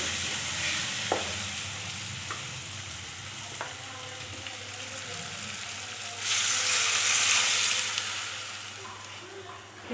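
Onions sautéing for fish curry in a pan give a continuous loud sizzle with occasional stirring clicks, the frying swelling brighter partway through.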